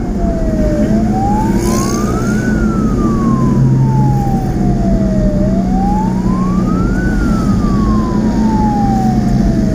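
A siren from an ambulance escort convoy in Bandung, Indonesia, wails loudly and close in slow rising and falling sweeps, over a rumbling engine.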